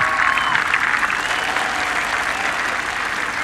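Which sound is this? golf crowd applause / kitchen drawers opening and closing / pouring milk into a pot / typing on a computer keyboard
golf crowd applause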